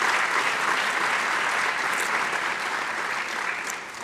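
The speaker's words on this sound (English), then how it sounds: "Let's give a round of applause for Ms." Full audience applause in a school chapel for the student life coordinator, loud and sustained clapping from many people that fades slightly toward the end, with no speech.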